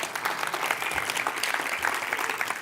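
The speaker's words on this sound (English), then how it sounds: "Give yourselves a round of applause." Comedy club audience breaks into sustained applause, dense steady clapping from a crowd filling the whole stretch without pause.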